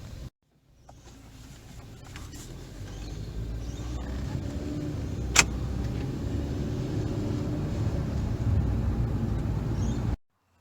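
A car engine runs steadily as it drives off, a continuous low rumble building slightly over ten seconds before cutting out abruptly.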